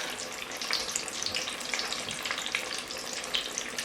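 Corn deep frying in hot oil gives a steady, close crackling sizzle with dense popping bubbles throughout, no voices present.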